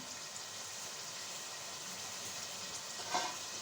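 Potato bhujia frying in a pan gives a steady, quiet sizzle that runs unbroken, with a slight stir or scrape near the end.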